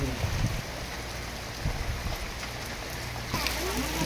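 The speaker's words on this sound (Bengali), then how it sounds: "আল্লাহর রহমত, বৃষ্টি শুরু হয়েছে" Steady rain begins falling in Khalek Park at Hemayetpur, Pabna, a soft, even wash of drops with a low rumble beneath, swelling slightly near the end.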